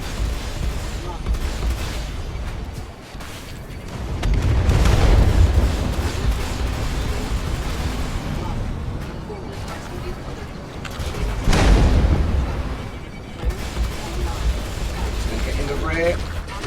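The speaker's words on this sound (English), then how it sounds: "I'm getting pounded by those missiles." Missiles pounding a Gladiator fighter in a Star Citizen battle against a Vanduul swarm land as heavy booming blasts with rumbling bursts around 5 and 12 seconds, over a constant background din of game combat.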